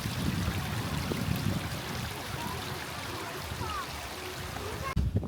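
Clean water flowing at Bright Pearl Square in Dali, China, a continuous nearby babble and trickle that holds steady throughout, with a brief thump near the end.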